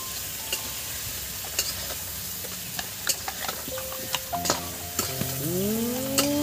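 Cumin seeds fry in hot oil in a pan while being stirred for a vegetarian Kashmiri aloo dum, a steady close sizzle broken by scattered clinks and scrapes of the utensil, with a rising squeal near the end.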